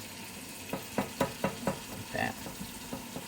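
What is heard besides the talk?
whisking pumpkin pie filling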